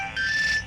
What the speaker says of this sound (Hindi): सोनू भैया, किसका फोन है